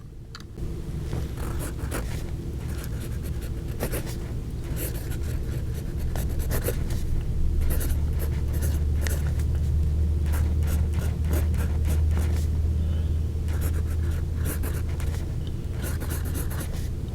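A Wing Sung 618 fountain pen's smooth nib writes on paper close to the microphone, a soft continuous scratchy rustle with small strokes and taps running steadily for the whole stretch, no talk.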